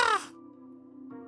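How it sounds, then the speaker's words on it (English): A single crow caws once near the start, then a steady low drone hums underneath, with a fresh swell of sound near the end; the cawing comes from somewhere off at a distance. "crows cawing"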